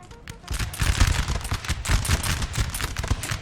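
Musket volleys and artillery fire from a Napoleon Total War battle at Austerlitz, a loud continuous crackle of massed musketry with heavy booms underneath, close and without talk.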